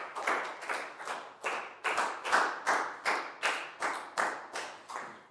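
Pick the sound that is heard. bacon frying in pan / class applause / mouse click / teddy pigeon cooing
class applause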